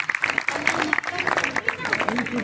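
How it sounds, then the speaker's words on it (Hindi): An audience at a live comedy show claps and applauds in a dense, lively burst, with crowd noise and voices mixed in. "एक बार जोरदार तालियां बजाओ"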